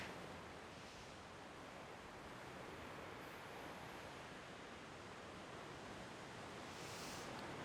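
Steady broadband wash of ocean waves and surf rolling continuously at an even, moderate level, with gentle swells in intensity near the start and end and no voices.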